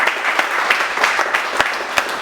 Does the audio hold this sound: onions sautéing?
no